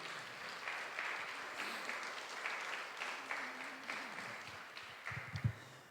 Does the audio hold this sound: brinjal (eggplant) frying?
no